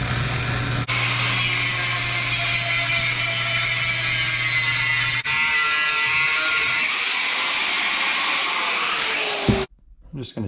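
Welding a metal brace for a drum set hisses and buzzes steadily at close range, with a low electrical hum underneath, then cuts out abruptly near the end.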